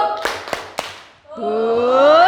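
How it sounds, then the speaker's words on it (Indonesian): Schoolchildren in a classroom give a group spirit clap: three sharp, loud claps in a quick, even rhythm, then a sustained rising vocal cheer. "kita tepuk semangat dulu"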